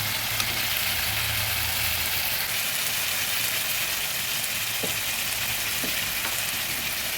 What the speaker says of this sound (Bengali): মরিচটাও ভালোভাবে ভেজে নিচ্ছি লঙ্কাটাও ভালোভাবে ভেজে নিচ্ছি